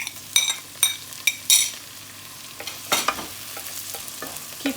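Chopped tomato frying in a pan with a steady sizzle, broken by scraping and clinking strokes of a spoon or spatula stirring.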